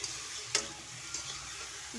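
Tomatoes and nearly boiled potatoes are stirred as they fry in a pan, a faint low sizzle with a couple of soft utensil taps, close and quiet, with no talk.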